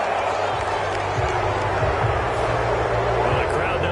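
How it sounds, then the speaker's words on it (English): A steady stadium crowd roar from a football video game on PS4, reacting to a penalty flag after an incomplete pass. It is a dense, continuous wash of disapproving noise with a commentator's voice running over it. "Well, the crowd doesn't like that."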